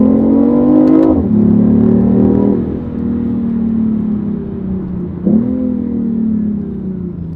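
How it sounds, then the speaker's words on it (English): A BMW i8 hybrid supercar's engine revs up sharply, then settles into a strong, steady drone, with a second quick blip of throttle midway; close and loud with no talking. "listen to that engine"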